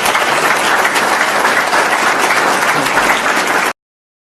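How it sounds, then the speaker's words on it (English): Applause from an audience at a civics and citizenship event, a dense, steady wash of many hands clapping loudly throughout, then cutting off abruptly near the end. "So please give them a round of applause"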